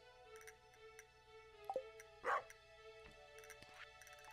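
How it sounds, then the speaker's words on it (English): A farm dog in the Stardew Valley game barks a couple of short, quiet yips amid soft background music and small game sound effects. "I hear my dog barking."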